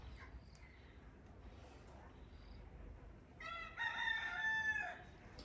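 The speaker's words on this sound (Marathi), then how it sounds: "या कोंबड्याची सकाळ आत्ता झाली आहे का?" A rooster crows once in the later half, a loud harmonic call rising out of quiet room background after a stretch of low ambient noise.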